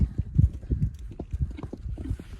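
A horse's hooves clip-clopping on the ground while being lunged over poles, close and clear, in a quick uneven rhythm of dull thuds.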